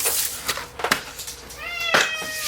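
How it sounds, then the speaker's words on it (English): A house cat meows several times close by, with a couple of short, clear harmonic calls near the end over quiet room noise. "There's my cat. Ruining my video all the time."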